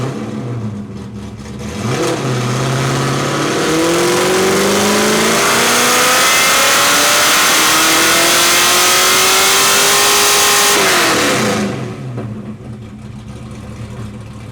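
Ford Mustang Foxbody engine on a dyno, settling from a steady idle into a long, loud wide-open pull that climbs smoothly in pitch for about ten seconds, then cuts off and drops back to idle, with no voices.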